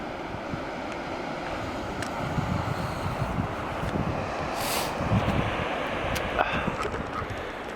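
Wind roars steadily across a microphone on a coastal hiking trail, a broad continuous rush with faint surf beneath it and occasional stronger gusts, no voices.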